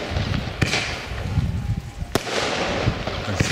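Weco fireworks item number 29 fired during a pre-show test shoot: sharp cracking reports and pops bursting over a continuous hiss and crackle, with several distinct bangs, fairly near and loud.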